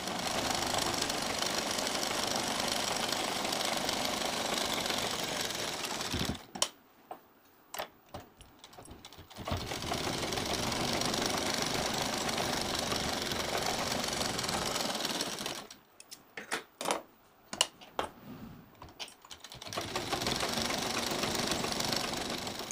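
Sewing machine stitching a pressed seam along three sides of a cloth nappy for a newborn, running in two long steady bursts with short pauses and scattered clicks between them.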